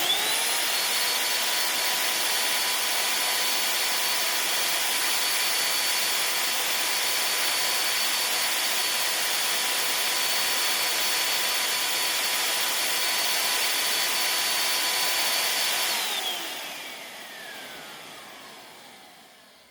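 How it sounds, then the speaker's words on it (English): A Bissell PowerClean carpet cleaner's motor runs with a loud, steady whine and hiss for about fifteen seconds, then winds down as its pitch falls away and fades out. "But I'm glad that the motor sounds as good as it does"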